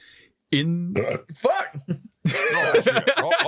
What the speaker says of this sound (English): you burp and it blows the match out